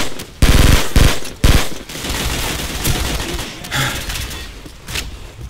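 Automatic gunfire in a Call of Duty match set in Rio's Manguinhos, with sharp loud bursts early on and then sustained rattling fire and thuds at mid distance.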